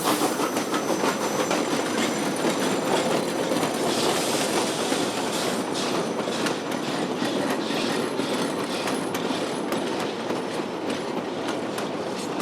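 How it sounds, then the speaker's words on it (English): A steam train from Chama over Cumbres pulls into the old section camp at Osier, its cars rumbling with steady clickety-clack from the rails and a faint wheel squeal, loud and continuous throughout. "We're at Osier, where we see the train from Chama and Cumbres arriving."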